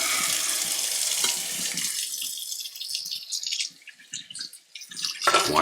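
Water runs from a kitchen tap while a knife is washed with soap after trimming a brisket, making a close, steady splashing flow that breaks up into drips and uneven splashes before a final gush.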